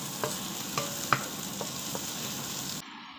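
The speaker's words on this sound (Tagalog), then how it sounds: "Dagdagan natin ng unting mantika. Hindi yata sapat ng mantika. So, ipa-fry natin siya." Onion and garlic frying in oil in a pan: a steady, faint hissing sizzle with a few soft clicks of stirring, then the sound cuts off abruptly near the end.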